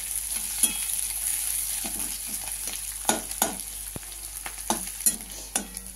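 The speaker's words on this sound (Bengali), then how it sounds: "আমি কাঁচা লঙ্কাটা এবার আমি দিয়ে দিচ্ছি শাকটা আস্তে আস্তে করে। কোনো জল দেওয়া হবে না, এভাবে শুকনো ভাজা হবে" Leafy greens dry-frying with no water in a pan with chopped onion, crushed garlic and green chilli, a steady close sizzle broken by repeated stirring scrapes and clacks of a utensil.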